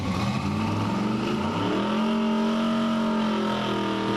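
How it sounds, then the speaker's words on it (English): A stroked small-block car running mufflers does a burnout, its engine roaring loud and close with rising and holding revs under a broad rasping exhaust. "Now listen again when you hear the burnout."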